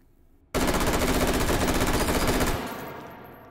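An M4A1 carbine with a muzzle brake, fired in the H3VR virtual-reality game, lets off a two-second full-auto burst of rapid, loud, evenly spaced shots, then trails off into a fading echo.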